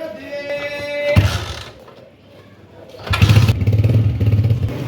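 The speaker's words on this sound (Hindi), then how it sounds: "अपनी होंडा निकाल रहे हैं बाहर।" A Honda motorcycle is wheeled out and kicked into life outdoors: a sharp mechanical clank, a pause, then the engine catches and settles into a loud, steady idle close by.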